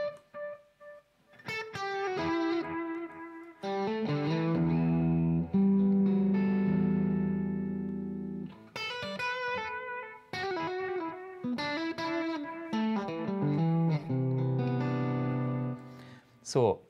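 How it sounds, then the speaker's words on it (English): An electric guitar played through a warm, analog-style delay pedal, with chords and single notes sustaining and trailing off into soft repeats, loud and up close, with no voice over it. "the specialty of this delay is it's not too bright, it sounds analog, but it doesn't sound dull"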